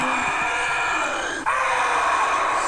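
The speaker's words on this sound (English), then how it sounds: "that sort of scream is what you hear before he's going to attack" A strained, drawn-out scream from a leaping special infected enemy in Left 4 Dead 2 rises and holds over the game's steady background noise, breaking briefly before continuing.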